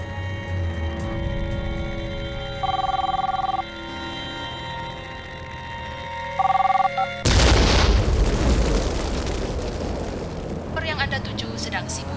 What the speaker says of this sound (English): all they can do is explode the small bomb at the American consulate